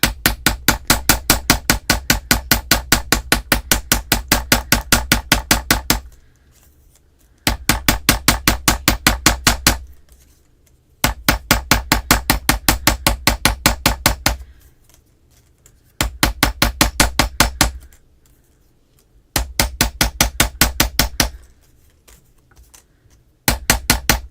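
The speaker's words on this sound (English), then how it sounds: "I'm going to turn it over and hammer on the other side." Metal earring wire is hammered flat on a steel block in rapid, evenly spaced sharp taps, delivered in several bursts of a few seconds each separated by short pauses.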